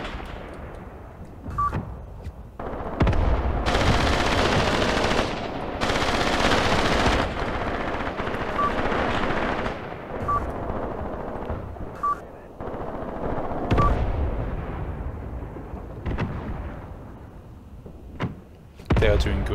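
Bursts of machine gun fire in the tactical war game Graviteam Tactics, loud rattling volleys separated by pauses, with scattered single shots and clunks in between.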